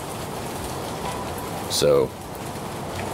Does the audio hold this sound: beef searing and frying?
no